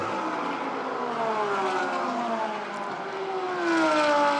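Race cars at the 2016 Spa-Francorchamps 24-hour race in wet conditions make a loud, continuous engine drone that slowly rises and falls in pitch as they pass, with no talking.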